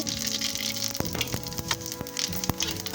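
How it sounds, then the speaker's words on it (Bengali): Cumin seeds sizzling in hot oil in a wok, a steady close frying hiss dotted with sharp popping crackles throughout. "তেলটা দেখো গরম হয়ে গেছে। এখন জিরা ঢেলে নেব।"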